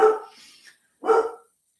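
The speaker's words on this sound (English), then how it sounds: "I'm sorry if you hear the dog in the background barking." Two sharp dog barks about a second apart, loud and fairly close, with silence after them.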